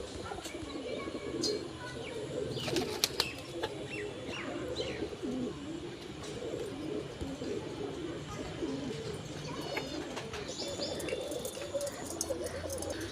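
Baba Dhanne Wali breed pigeons at a pigeon loft, soft cooing and chirping steady throughout over a busy background of birds, with occasional wing flutters.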